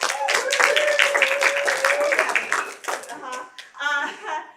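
Audience clapping at RestFest, an improv show, dense and fairly loud for about three seconds with voices calling out over it, then thinning into scattered speech and brief vocal sounds.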